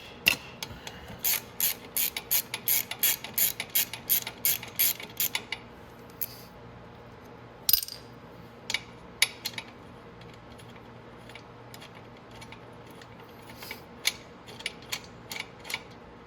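A ratchet wrench clicks steadily while loosening a foot peg bolt on a Venom X22r 250cc motorcycle, giving quick close bursts of pawl ticks that pause, then resume in shorter runs.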